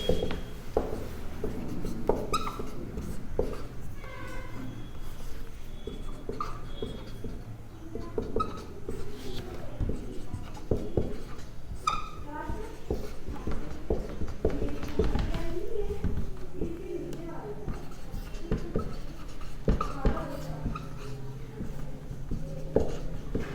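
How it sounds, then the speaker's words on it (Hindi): Scratchy, tapping strokes of writing on a board during a history lecture continue for a long stretch, with a teacher talking over much of it. "यहाँ लिख रहा हूँ।"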